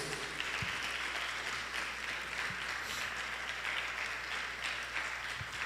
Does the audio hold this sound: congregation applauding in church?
yes